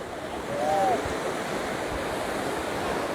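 Sea surf breaking steadily on the beach at Westward Ho! during a cold-water swim for International Women's Day, a continuous broad wash with a brief faint voice near the start.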